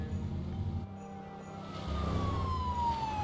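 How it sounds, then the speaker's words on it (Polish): A police car siren in GTA V wails as the car drives past over a steady engine rumble, its pitch sliding downward as it moves away. "policja sobie przejechała normalnie"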